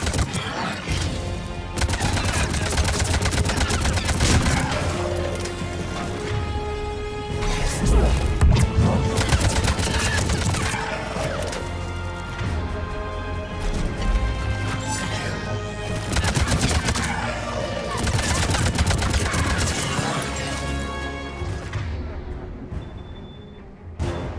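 Sustained gunfire and impact crashes during a firefight in Mass Effect 3, loud and dense throughout with repeated bursts, shots and smashing hits under a busy combat mix, with occasional voices.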